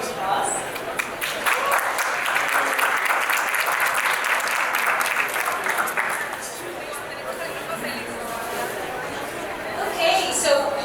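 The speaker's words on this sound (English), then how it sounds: "a big round of applause" An audience at a conference stage breaks into loud, sustained applause, dense clapping that swells and then thins out, with crowd chatter mixed in underneath.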